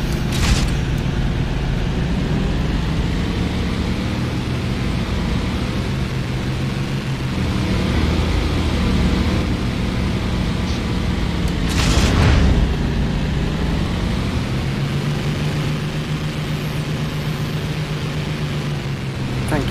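Bombing-run explosions in the flight combat game IL-2 Sturmovik, a continuous deep rumbling roar with a steady engine-like drone and a louder burst about midway, no talk over it.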